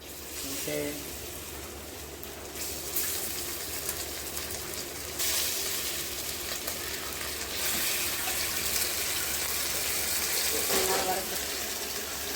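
Prawns frying in a pan in a home kitchen, a steady sizzle with bursts of louder spitting hiss, while a person talks nearby.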